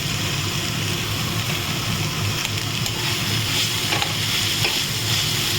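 Figs frying in a spiced masala in a pan, with a dense, steady sizzle and the scrape of stirring running continuously, loud and close.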